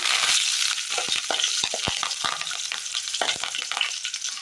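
Tempered mustard seeds with green chillies and curry leaves sizzle loudly as they hit a Kerala-style curry, a dense continuous crackle with stirring clicks close by and no voices.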